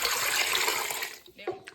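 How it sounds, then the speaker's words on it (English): Four cups of water pour into a soup pot for a vegetarian French onion soup, a steady rushing splash that thins out and trails off into a few drips and clinks. "Now we're going to add our 4 cups of water."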